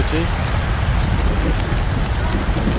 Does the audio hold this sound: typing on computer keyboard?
no